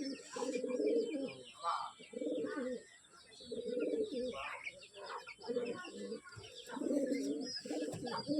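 Pigeons coo repeatedly nearby in low, throaty bursts with short pauses between them, and faint chirps sound in the background.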